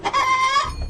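A hen gives one short, close, loud cluck with a nasal, tonal quality.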